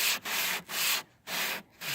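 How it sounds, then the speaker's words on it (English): Rhythmic back-and-forth rasping of a sanding block rubbed across a plastic headlight lens, four strokes with brief pauses between them. "Now we're going to grab the sanding block"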